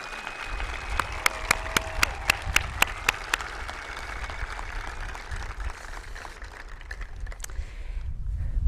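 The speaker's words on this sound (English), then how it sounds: "Let's give them one more round of applause." An audience at a nursing white coat ceremony gives a short burst of applause: distinct, fairly sparse claps early on that thin out and fade into quiet hall ambience.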